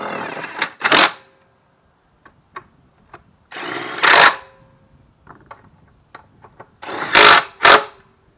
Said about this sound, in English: 1/2 inch on my Ryobi impact.